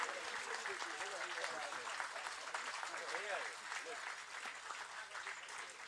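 A seated crowd applauds at a book release during an International Day of Yoga celebration at an eco park, the clapping moderately distant and continuous under faint voices.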